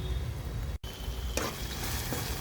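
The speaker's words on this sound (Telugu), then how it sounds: "ఇప్పుడు సన్నగా తరుక్కున్న టమాటాలని వేసుకుని కలుపుకోవాలండి" Finely chopped tomatoes go into a pan for aloo kurma and get stirred, giving a steady sizzle with scraping, a brief cut in sound, then a brighter hissing surge as they hit the oil.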